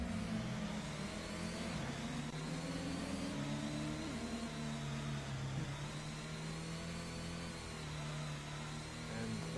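A car engine in the Gran Turismo racing game, an A-Class race at Autumn Ring, drones steadily and accelerates with layered mid-pitched harmonics that rise and shift throughout, continuous and fairly loud with no talk.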